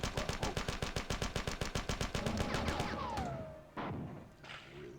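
Classic Marathon retro first-person shooter gameplay: a rapid, loud burst of automatic gunfire that stops abruptly, then a falling whine, a sharp thudding grenade blast and a second, quieter explosion.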